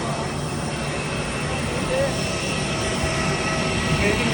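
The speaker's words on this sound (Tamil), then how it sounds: "இதுதான் வந்து ஃப்ளைட்டு." An airplane's engines running at an airport before departure, a steady broadband whine and rumble holding at an even level, with faint talk underneath.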